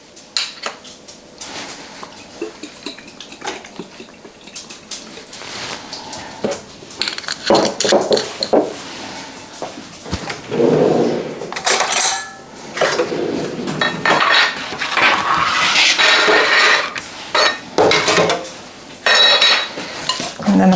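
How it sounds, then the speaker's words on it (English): Ingredients being mixed in a bowl with soy sauce, salt and breadcrumbs, giving repeated clinks and scrapes of a utensil against the dish, irregular and fairly close, with no talking. "And then I'm going to mix all that together."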